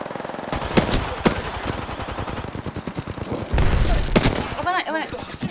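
Enemy gunfire in Apex Legends, rapid automatic bursts and sharp single shots cracking close by, with a heavier flurry near the end, under game effects and bits of voice.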